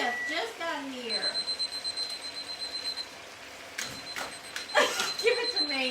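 A fire alarm goes off repeatedly in a kitchen with short, high, insistent bursts. Loud speech overlaps it, and it stops partway through before sounding again.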